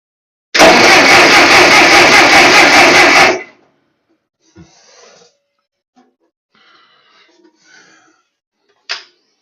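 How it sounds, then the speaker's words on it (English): Ferguson TO-35 tractor engine with a spark problem, cranking over loudly for about three seconds in a steady rhythmic churn with no start, then stopping, followed by faint handling noises and a short clank. "so let's crank it because I think I'm partially up on a lobe"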